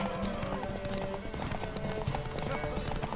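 Horse hooves clip-clopping on ground in The Witcher 3, a steady brisk rhythm of hoof strikes under continuous game ambience and music, with voices talking over it.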